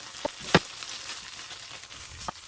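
A vegan omelette sizzles in avocado oil in a Green Pan skillet, a steady broadband hiss broken by a few short spatula scrapes or pops, close and fairly quiet.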